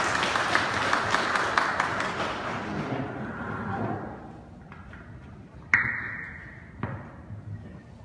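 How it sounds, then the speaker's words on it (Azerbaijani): An audience claps for the Romanian ambassador at a meeting in Tovuz, Azerbaijan, with applause loud at first and fading after a few seconds. Sharp thuds and a ringing ping follow. "Bir alqışlayaq cənab səfərimizi."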